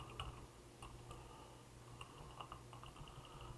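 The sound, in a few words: typing on a computer keyboard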